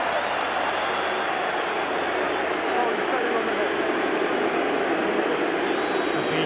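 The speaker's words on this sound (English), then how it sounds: "The crowd are loving it here in Durban." A large rugby stadium crowd in Durban roars and cheers steadily throughout, a dense broad wash of sound with a slight swell near the middle and no break.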